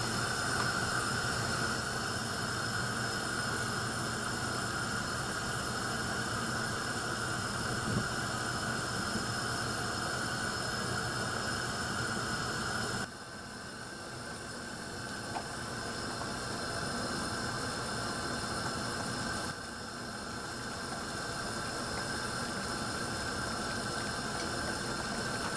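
Rice with beans, corn and olives coming to a boil in a pan, a steady close bubbling hiss that runs evenly throughout with no talking.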